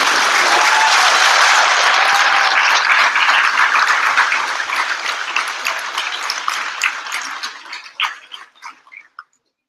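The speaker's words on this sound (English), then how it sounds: "let's give a round of applause to all from the Danish hospital" A graduation audience applauds for hospital graduates, a dense steady clapping that holds strong for several seconds, then thins into scattered individual claps and fades to silence.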